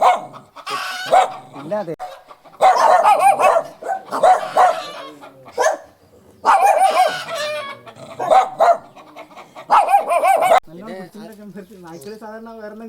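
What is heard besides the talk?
dogs barking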